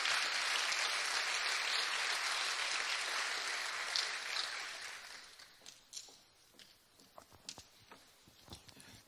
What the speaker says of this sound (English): we'd like to give them a big round of applause